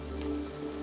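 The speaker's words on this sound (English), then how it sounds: "The rain's fully going in now." Rain falls steadily on an allotment garden, a soft, even patter under a low constant hum, faint and brief with no voices.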